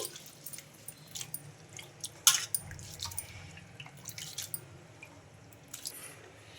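Wet squishing and dripping as rice grits for idli are swished and rubbed in water, with small irregular splashes close by and no talking.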